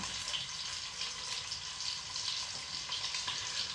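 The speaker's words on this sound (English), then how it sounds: "We want to sear it so hot and keep all the juice inside, right?" Steak laid salt-and-pepper side down into a very hot pan, searing with a steady, close, bright sizzle that holds evenly throughout.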